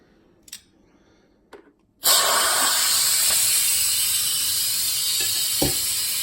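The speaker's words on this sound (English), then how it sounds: "That'll let the rest of the steam out." Steam bursting loudly from an Instant Pot pressure cooker after its lid is popped, a sudden, sustained, close hiss following a couple of faint clicks.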